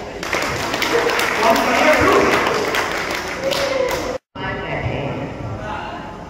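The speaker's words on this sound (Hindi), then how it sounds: "सब सहमत है, पुरुष और तालियां बजा दें।" Audience clapping at a kavi sammelan and mushaira poetry gathering in Moradabad, dense steady applause filling the room with voices mixed in, briefly cutting out before resuming.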